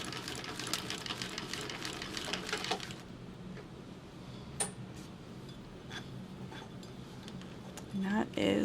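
A sewing machine stitches the final seam of a crossbody bag, a dense run of rapid mechanical ticking for about three seconds, then stopping, leaving faint clicks and handling noise with a brief louder burst near the end.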